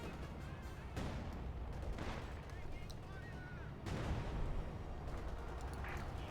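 Units firing in Company of Heroes 2, including a Sturmtiger and a KV8 tank, heard as a dense, continuous rattle of gunfire with heavier artillery booms breaking in, loud and sustained throughout.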